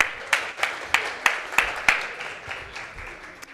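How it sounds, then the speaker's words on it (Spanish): An audience at a cancer story-writing contest launch claps in a sparse, rhythmic way. A handful of distinct claps sound about every third of a second, moderately near, and trail off toward the end. "pido un fuerte aplauso"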